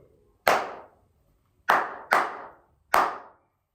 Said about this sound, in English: I can clap that dotted rhythm to you straight away like this.